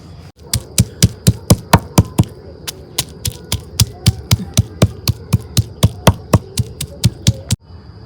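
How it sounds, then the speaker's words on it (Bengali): A heavy stone strikes rhythmically on a shil pata grinding stone, crushing coriander leaves, onion, ginger, garlic and onion greens: about two dozen sharp, close knocks in a steady beat, a few per second, with a faint background hum. "তো এখন আমি শিলপাটার মধ্যে বাইটে নেই।"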